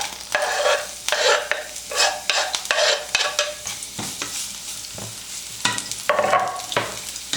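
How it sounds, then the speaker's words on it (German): Onion frying in clarified butter in a pan with a steady sizzle, broken by repeated scraping and stirring strokes of a utensil against the pan, close up. "Ich nehme jetzt die Hälfte und tue es etwas anbraten hier in der Pfanne."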